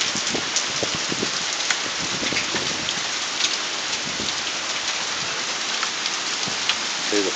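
Hail pelts and bounces off a house roof during a storm, a dense, continuous patter of sharp impacts at steady volume with no talk.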